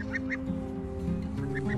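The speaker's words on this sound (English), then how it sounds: "a new little guard goose, hangs out right below my feet." A young goose kept on a farm honks and quacks in short repeated calls close to the microphone while someone works nailing a fence, with a steady hum underneath.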